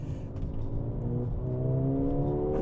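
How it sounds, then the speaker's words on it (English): A 2024 Mercedes-AMG GLA 35 accelerates hard in Sport Plus mode, its exhaust droning loud and close as the engine note climbs steadily through the revs. "That's the exhaust making all that sound."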